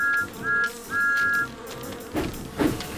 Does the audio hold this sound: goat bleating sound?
no